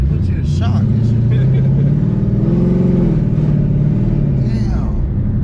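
A 1000HP twin-turbo Ford Mustang engine roars loud and close, a steady heavy rumble with revving and spinning tires, while excited voices talk over it throughout.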